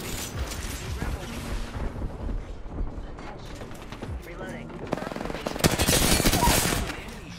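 Gunfire in the Apex Legends battle royale game, with rapid bursts and rattling shots throughout, loud and dense, growing heavier toward the end, mixed with game effects and a voice talking over it.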